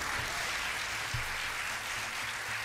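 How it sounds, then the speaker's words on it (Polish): Applause from a studio audience on a television game show, a steady, dense patter of clapping that stays even throughout, with no voices over it. "Dostałeś brawa."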